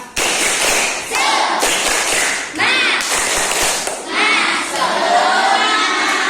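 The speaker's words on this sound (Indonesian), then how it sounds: "Tepuk semangat." Elementary schoolchildren in a classroom perform a rhythmic spirit clap, with loud bursts of group clapping broken by short gaps while their voices chant and shout along in time.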